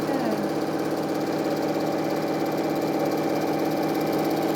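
A sewing machine runs steadily while stitching quilt triangle squares, giving a continuous fast whirring hum with a fine mechanical pulse; someone talks over it.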